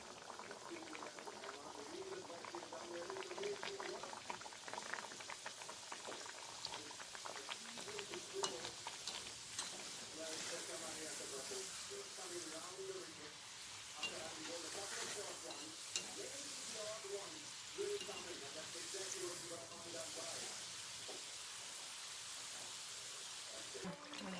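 Kachori deep frying in hot oil on a gas stove, a long, soft bubbling sizzle with fine crackles and gentle burbling, steady and close but low in level.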